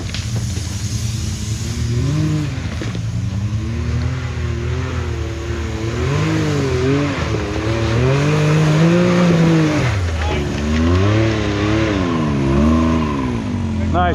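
A Polaris Scrambler ATV driving up a rough West Virginia trail, its engine revving and falling in repeated surges, loud and near, with people talking over it.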